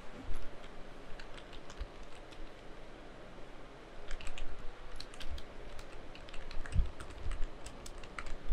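Someone types a command on a computer keyboard, quiet close key clicks in uneven bursts, denser in the second half, with no talking.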